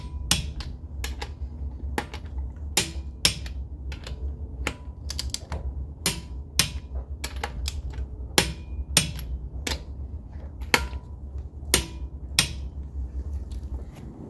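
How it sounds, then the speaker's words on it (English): A tool clicks sharply as wheel lug nuts are tightened in a crisscross pattern on a Ford Fusion Energi or C-Max, producing a long, irregular run of crisp mechanical snaps, close and fairly loud. "don't forget to torque these lug nuts down"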